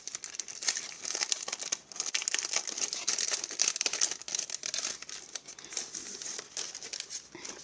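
Wrapping paper and plastic crinkling steadily as a surprise box of stickers is opened up close, a continuous rustle with brief pauses and no talking.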